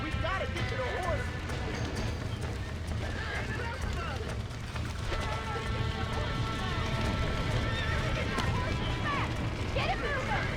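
Horses gallop with rapid, continuous hoofbeats and occasional whinnies in Red Dead Redemption, set against a busy game soundscape with voices calling out now and then.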